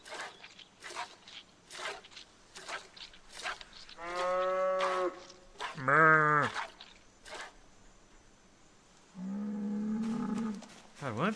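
A cow gives three separate moos between quieter shuffling and rustling, each moo loud and drawn out, the second one higher and strained.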